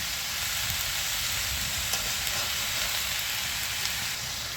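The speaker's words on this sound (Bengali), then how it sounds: "চিচিঙ্গাটা প্রথমে একটুখানি নেড়ে নেব" Snake gourd being stirred in a hot pan, with a steady close sizzle and frying hiss running throughout and faint scraping of the stirring under it; no talk.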